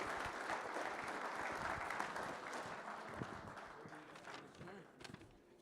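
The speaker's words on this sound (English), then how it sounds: "So round of applause, well-deserved, and a great partner." Audience applause at a workplace safety kickoff meeting, a sustained crowd of hands clapping that stays full and steady, then gradually tapers off toward the end, with a few faint voices mixed in.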